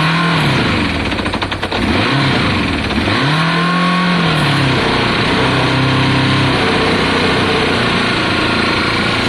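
A Kawasaki ZL600 motorcycle engine cranks and catches, revs up once or twice, then settles into a loud, steady close-up idle.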